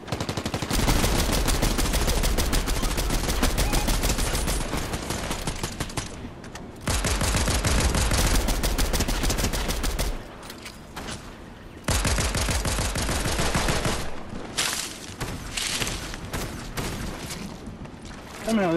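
Sustained, loud automatic gunfire in a video game, with the player being shot at, rattling almost nonstop in long bursts with a few brief gaps.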